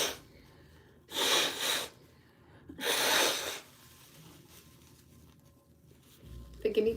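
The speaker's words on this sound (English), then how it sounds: "Forgive me for blowing my nose on here" Two loud, broadband blasts of air, each about a second long, a nose being blown hard, separated by a quiet pause, with a brief rustle at the end.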